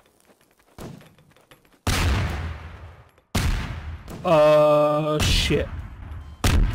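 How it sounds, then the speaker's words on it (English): Grenade launcher rounds booming in a Garry's Mod match, several heavy blasts with long decaying tails, a loud tonal game sound between them, and a brief exclamation from a player. "Who gave them grenade launchers?"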